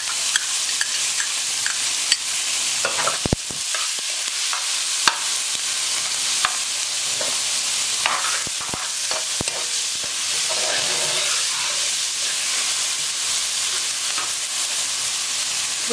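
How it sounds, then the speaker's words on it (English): Green pepper and onion sauté over high heat for Puerto Rican arroz con gandules, a steady close sizzle running throughout with scattered sharp clicks and scrapes of a utensil stirring the pan. "start sauteing our vegetables"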